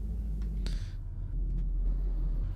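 A car driving in the video game Arma on the ArmaLife server, a steady low engine rumble that stays close and even, with a couple of brief higher clicks near the start.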